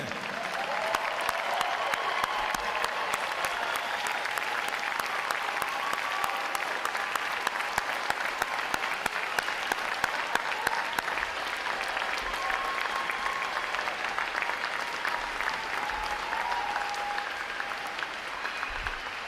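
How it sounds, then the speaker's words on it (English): A large graduation audience of families and supporters greets a class of Navy midshipmen with sustained, dense applause that stays steady and loud throughout, with a faint murmur of crowd voices underneath. "Let's get a big round of applause for 674 midshipmen."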